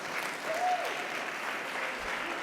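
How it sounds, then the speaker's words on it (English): An audience at a North Braintree candidates night gives a round of applause, a steady wash of clapping at moderate level that holds evenly for a couple of seconds. "Round of applause."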